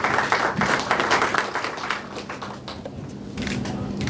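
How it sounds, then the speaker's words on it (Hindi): Crowd applause for the guru at a Jyotish astrology summit, with a dense, steady clatter of many hands that swells and eases slightly over about four seconds, with no voices on top. "एक बार जोरदार तालियां गुरुदेव के लिए।"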